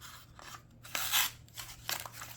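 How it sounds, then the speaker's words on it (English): A Faulkner 5 knife slices through catalog paper in several close, crisp swishing cuts, some smooth and one with a snagging rasp, separated by short pauses. "So yeah, it's cutting pretty smooth through the paper, but yeah, it's catching up there."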